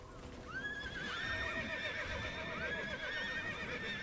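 Horse neighing in the online role-playing video game TERA Online, a loud, drawn-out whinny with a second call following, mixed with clip-clop hoof sounds and game ambience, no voices.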